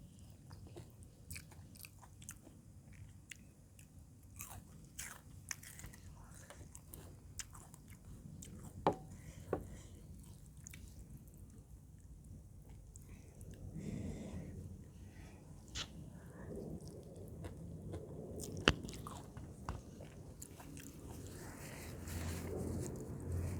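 Someone eats a big bowl of spicy, sour mixed Thai noodle salad, with close, moist chewing and soft bites repeating steadily throughout and no talking.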